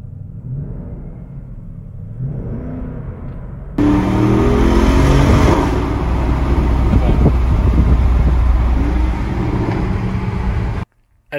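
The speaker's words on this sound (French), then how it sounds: "Le réveil de la force du V8." Porsche Cayenne Coupé Turbo with a 4-litre twin-turbo V8 (550 hp): a low idle rumble, then a sudden loud start into a steady, powerful throaty roar with a rev blip before cutting off near the end.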